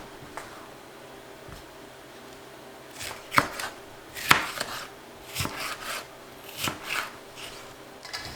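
A knife cuts through peppers on a board in a home kitchen, scattered sharp chops in irregular clusters, some louder than others, over a quiet background.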